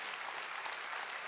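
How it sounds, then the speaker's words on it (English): A live audience at a whistleblower event claps steadily, a dense, even wash of many hands heard close and continuous throughout. "Lots of people clapping for you."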